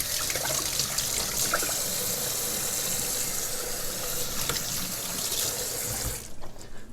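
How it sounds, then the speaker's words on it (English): A kitchen tap runs steadily into a sink while hands are rinsed, a continuous close splashing rush that stops abruptly near the end. "after I rinse my hands"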